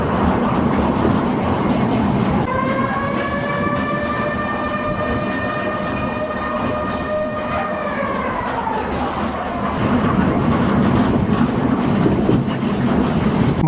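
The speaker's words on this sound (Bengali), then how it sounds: "চালু হয়ে গেছে কিন্তু আমাদের ট্রেন রাইডটা।" A large amusement park ride train rolls along with a loud, steady rumble, and a tonal horn-like whistle rises and holds for several seconds, then slides downward and fades while the running noise continues.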